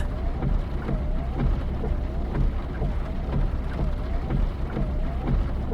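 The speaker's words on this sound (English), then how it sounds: "Sure is raining hard" Heavy rain in the Final Fantasy 7 game: a steady, dense wash of downpour with a low rumble beneath, continuous and even throughout, with no one talking.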